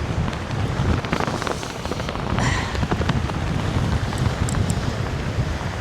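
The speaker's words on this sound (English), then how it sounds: "Still an issue with the wind." Strong wind blows across the microphone on a Northumberland beach, a continuous low roar that rumbles and gusts steadily throughout, with no talk over it.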